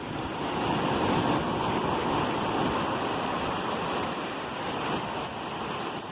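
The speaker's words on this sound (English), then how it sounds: "And it's fucking raining." Rain falls steadily at a beach while waves break nearby, making a dense, continuous wash of hissing noise with no distinct pauses.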